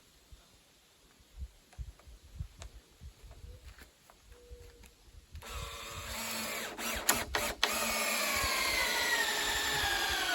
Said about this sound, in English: Now I'm going to take these timber screws and just toe screw this in.